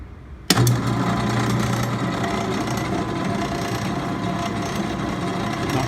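A small Supreme brand drill press with a 1/2 inch chuck switches on with a sharp start, then runs with a steady loud motor whir and mechanical rattle, continuous and close with no talking.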